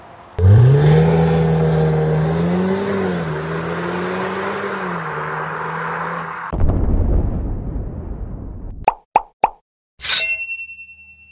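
Audi S3 fitted with an Akrapovic exhaust, heard from outside as it revs and pulls away with a strong rising engine note for several seconds, then a few sharp exhaust pops and crackles at the end.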